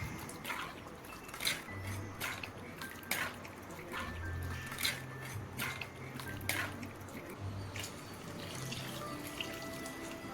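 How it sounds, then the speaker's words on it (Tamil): Fish gravy with added water boils in a pot, giving irregular soft bubbling pops and splutters over a faint watery hiss, heard close and fairly quiet. "குழம்பு நல்லா கொதிக்க விடலாம்."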